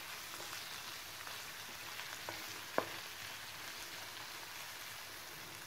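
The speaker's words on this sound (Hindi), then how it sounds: "तो साथ में इसको मिक्स करते रहना है, हिलाते भी रहना है साथ में ताकि ये लगे ना।" Pasta sauce for veg pasta is stirred in a pan over steady frying sizzle, with a few faint spoon scrapes and one sharp clink partway through, fairly quiet and with no talking.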